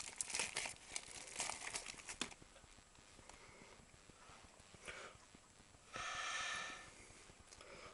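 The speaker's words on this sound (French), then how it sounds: "on va attaquer maintenant le déballage de l'appareil" Packaging for a Sciphone N12 mobile phone crinkles and rustles in quick bursts close by, with quieter handling between and a longer, louder crackle toward the end.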